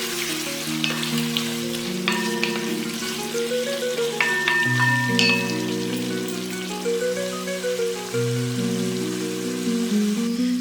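Onions cook with chicken in a pan after water is added, giving a steady, loud sizzling hiss throughout over a stepped tonal melody in the background.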